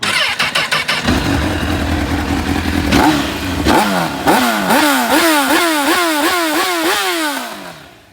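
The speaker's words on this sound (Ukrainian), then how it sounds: "По мотору питань нема, заводиться все чітко." A 2004 Honda CBR1000RR Fireblade one-litre sport bike starts up and idles loudly up close, then gets a series of sharp, rhythmic throttle blips that rise and fall repeatedly before the engine note fades out.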